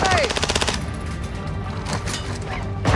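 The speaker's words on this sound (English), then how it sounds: "Taking effective fire!" Rapid video-game gunfire in a firefight, a fast automatic burst at the start followed by scattered shots and impacts, with another burst at the end, loud and close.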